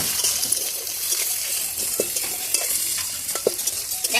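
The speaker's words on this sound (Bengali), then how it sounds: "দেখো ভেন্ডিটা খুব সুন্দর করে ভাজি ভাজি করে নিয়েছি।" Okra (bhindi) frying in a pan and being stirred, a steady sizzle with scraping and clinking strokes from the utensil recurring throughout, close and fairly loud, no talking.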